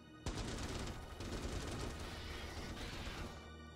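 Dense, continuous turret fire from Starship Troopers: Terran Command, a steady loud barrage of rapid automatic shots with crashing impacts layered underneath, running without a break for the full length.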